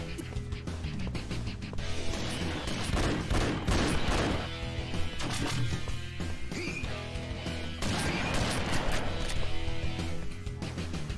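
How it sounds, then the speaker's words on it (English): Plasma cannon fired repeatedly in the PSP game Duke Nukem Critical Mass, loud rapid bursts and crashing impacts in several volleys over game music. "Plasma cannon."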